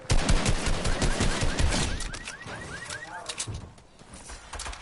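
Rapid bursts of gunfire during a Fortnite squads match, dense and loud at first and thinning out, with players talking over the shots.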